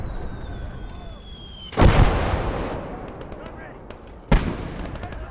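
Two heavy anti-tank gun blasts in a WWII video game, each a loud booming crack with a rolling tail, spaced a few seconds apart over a low battlefield rumble.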